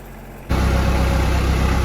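Used Japanese four-wheel-drive compact tractor with 450 engine hours fires up abruptly after a quiet moment and settles into a loud, steady, rumbling idle close by.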